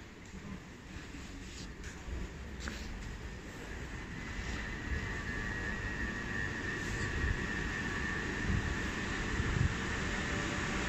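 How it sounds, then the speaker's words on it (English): Steady rumble of a train not in service idling at a platform at Orpington Station, a continuous low mechanical drone with a faint high whine, no voices. "This train is not in use."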